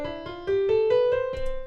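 A major scale is played one note at a time, an even string of clear, steadily stepping tones that rise quickly and ring close and alone.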